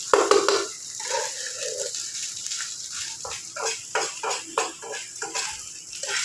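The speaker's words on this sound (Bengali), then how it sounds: "নিজের জন্য ডিম দিয়ে ভাত দিয়ে ভেজে নিচ্ছে" Rice and egg frying together in a pan, with steady metal scraping and clinking from a spatula over a constant sizzle, close and moderately loud.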